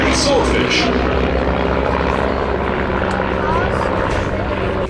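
A de Havilland Chipmunk propeller aeroplane flying at the Shuttleworth Wings + Wheels air show, a loud, continuous engine and propeller drone that stays steady and close for the whole stretch.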